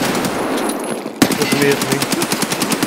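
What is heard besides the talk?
gunfire in video game Escape From Tarkov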